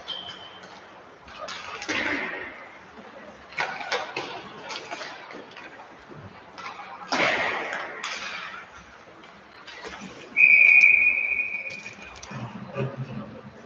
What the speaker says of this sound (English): The referee has blown the whistle.